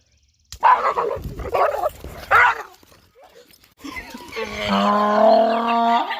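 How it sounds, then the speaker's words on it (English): A dog yelps and whimpers after touching an electric fence, a few sharp cries followed by a sustained whining howl, close and loud with some outdoor background. "Donkey laughs at dog getting shocked by electric fence"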